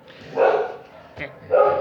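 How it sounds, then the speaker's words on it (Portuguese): A dog barks outdoors during a live class, giving two loud barks about a second apart with a fainter yip between them, mixed in with the room's background. "cachorro aí latindo"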